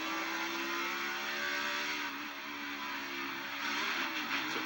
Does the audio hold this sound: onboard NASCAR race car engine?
yes